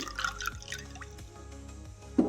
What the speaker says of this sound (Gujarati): ઠંડુ આપણે પાણી એડ કરશું